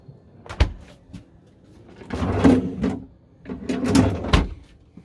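A fridge door in a six-metre caravan at a trade show is opened and shut, with clunks, rattles and a thud up close.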